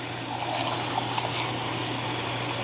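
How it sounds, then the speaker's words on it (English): Broth pours into a cooking pot for pulled pork, a steady close gushing stream of liquid lasting throughout with a low hum underneath. "And then I've got my broth that I prepared earlier. I'm just going to go ahead and start pouring this in."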